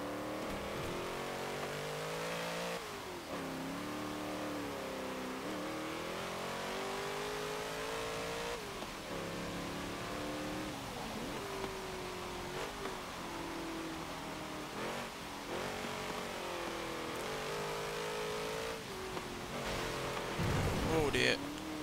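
A 2010 Ford Crown Victoria Police Interceptor in Forza, its engine revving hard and steadily with rising and falling pitch as the rear wheels spin, loud and continuous throughout with a voice talking over it.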